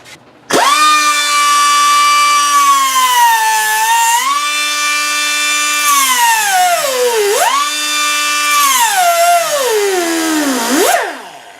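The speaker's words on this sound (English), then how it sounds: "I should just grind the whole head off." A power grinder cuts the head off a spindle part on a 2004 Dodge Dakota, giving a loud, steady, close whine for about ten seconds whose pitch sags and recovers several times as the tool bogs under load.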